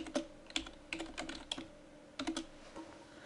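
Typing on a computer keyboard: a few soft, close key clicks in short irregular clusters, faint and alone with no talking.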